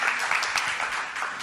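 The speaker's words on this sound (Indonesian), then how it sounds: "Berikan tepuk tangan buat Tuhan Yesus." A church congregation applauds during a sermon, a brief burst of dense, even clapping from many hands at moderate volume with no talk over it.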